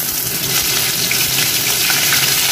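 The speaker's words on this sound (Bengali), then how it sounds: "এরপর আমি দেবো আদা বাটা, এর মধ্যে আদা পেস্টটা দিয়ে দিচ্ছি" Ginger paste hits hot oil with dried red chilli and whole cumin for a Bengali-style palak paneer, giving a loud, steady, close-up sizzle with no talking.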